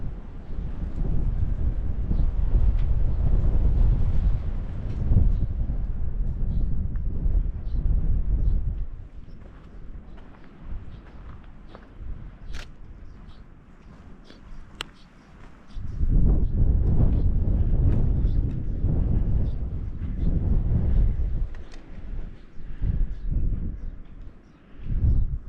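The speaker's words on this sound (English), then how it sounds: "Does that wind sound loud? That's because it is loud." Loud wind batters the microphone at a ruined ghost town in Piedmont, Wyoming, roaring in heavy gusts that ease for several seconds mid-way before surging back strong.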